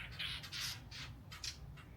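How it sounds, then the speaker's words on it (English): Backyard garden birds squawk harshly while fighting, a rapid series of loud, raspy calls in bursts close by. "The birds are fighting."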